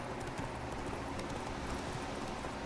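A horse gallops in the video game The Witcher 3, its hooves drumming in a fast, steady clip-clop rhythm at moderate volume over a dense, noisy game background.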